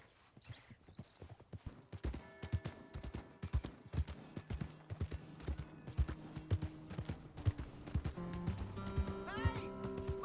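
Hooves of a horse in Red Dead Redemption 2 clip-clopping in an uneven walking rhythm, crisp and fairly close, with a few snorts and tonal game sounds layered over it and no speech.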